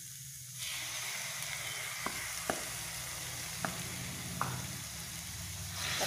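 Tomato goes into a hot pan with turmeric and spices, setting off a steady close sizzle and fry with a few sharp clicks of a utensil, no talking.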